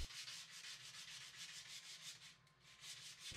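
Steady, rhythmic rubbing of sandpaper over a wooden golf club shaft, a quick back-and-forth scratching repeated many times at close range.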